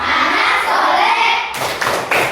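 Classroom children clapping along to the tepuk anak soleh chant, first voices chanting, then a few sharp, rhythmic hand claps close by.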